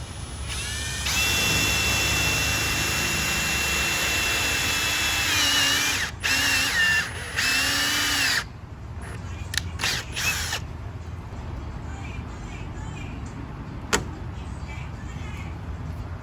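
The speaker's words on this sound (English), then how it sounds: "drilled the hole out, put it all through" A power drill bores a hole with a step drill bit while parts are fitted to a bagged G35, giving a loud, steady whine for about eight seconds with brief pauses, then stopping to quieter handling clatter.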